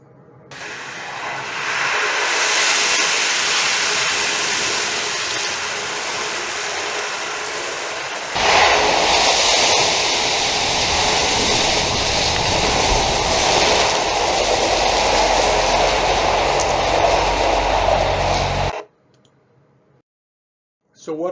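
A turkey fryer fire burning, a steady loud roaring rush that surges sharply partway through, holds at full strength, then cuts off abruptly near the end.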